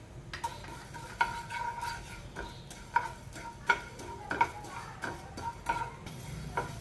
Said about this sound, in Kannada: ಧನಿಯಾ ಹುರ್ಕೊಂಡ್ಬಿಡೋಣ